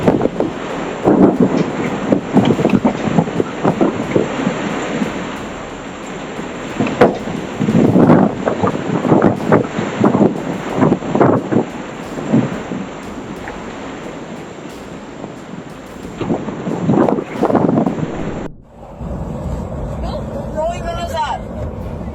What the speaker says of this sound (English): gusts were strong enough to rip roofs clean off houses